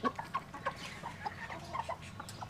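Chickens and bantams cluck in a backyard farm, a scatter of short, moderately loud calls repeating irregularly over a steady low outdoor background.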